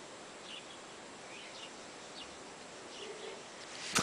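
Faint bird chirps scattered over a steady outdoor hiss, a few short calls spaced apart, ending with a brief louder rustle.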